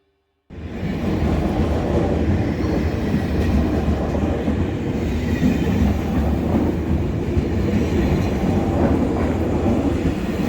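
A train rumbles steadily along the rails, a loud continuous clatter of wheels and carriages close by, with no talking.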